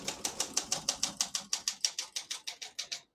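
Keys of a 1970 Olympia SM9 portable typewriter strike in a quick, even series of about twenty crisp clacks, close up and alone.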